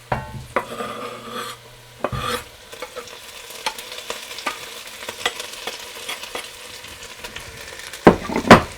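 Ginger and garlic hit a pan of caramelized onions and fry with a steady sizzle, while a utensil scrapes and stirs in repeated close strokes, with a louder clatter near the end.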